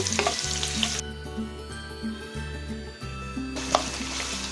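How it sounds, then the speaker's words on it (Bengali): Chopped onions fry in hot oil with a steady, bright crackling sizzle, close and continuous, over a low droning hum; no one speaks. "তেলটা গরম হয়ে গিয়েছে এখন যে পেঁয়াজটা কেটে রেখেছি পেঁয়াজটা আমি দিয়ে দিয়েছি"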